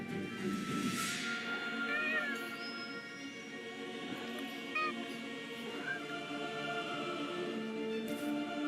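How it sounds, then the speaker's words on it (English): A cat in the video game Forspoken gives several short meows spread across the stretch over a soft ambient game soundscape with faint tonal music. "Is that a cat?"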